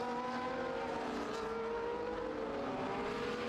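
A racing video game car screams down the straight at Miami, its engine a steady high whine that climbs in pitch as it accelerates, heard at moderate level with no talking over it.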